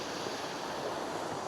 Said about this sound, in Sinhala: ටිකක් රැල්ල තදට වදිනවා.